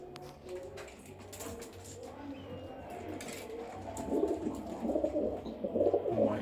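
Pigeons kept as breeding birds coo repeatedly at close range, soft rolling calls layered over a low background hum with a little faint rustling.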